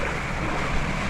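Floodwater from Hurricane Helene rushing into and filling a house's garage, heard as a continuous loud wash of churning water with wind noise buffeting the microphone, no voices.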